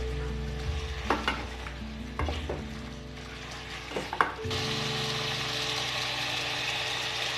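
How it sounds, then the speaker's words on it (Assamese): Broiler chicken fries in a pan and is stirred, with several scraping clatters of the utensil over a steady sizzle that swells louder and hissier toward the end; no voices. "এতিয়া মই অলপমান সময় লৰাই দিছোঁ"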